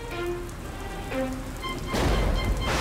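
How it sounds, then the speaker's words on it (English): Cartoon rain sound effect for a kids' construction cartoon, a steady hiss of falling rain that swells louder near the end, with no talk over it. "I think it's going to rain."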